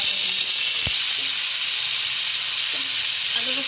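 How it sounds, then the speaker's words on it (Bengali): Ginger garlic paste frying in leftover oil from fried onions, a steady loud sizzle with a brief clink of a utensil, no talking. "এখন আমি এখানে সবার প্রথমে আদা রসুন বাটা দিব।"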